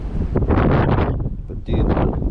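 Gusty wind buffets the microphone beside a country pond, coming in loud, rough bursts with a short lull in the middle.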